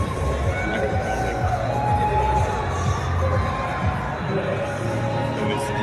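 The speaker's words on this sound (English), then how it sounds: "It was just people screaming for joy" Crowd of people cheering, whooping and hollering from apartment windows across city buildings during COVID lockdown, a dense, steady wash of distant voices that never lets up.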